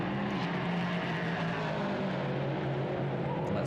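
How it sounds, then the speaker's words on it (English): A V8 Prototype Cup race car at the Nürburgring pulling out of the pit lane: a continuous loud engine drone holding a steady pitch, heard from some distance with no speech over it. "Let's listen to that V8 engine"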